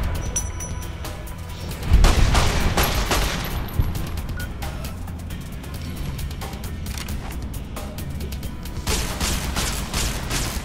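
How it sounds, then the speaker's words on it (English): Gunfire from a firefight in the video game Fallout: New Vegas, a dense fusillade of shots that swells sharply about two seconds in and keeps crackling loudly and steadily until the end, with bursts thickening near the close. "Stop shooting me for a minute"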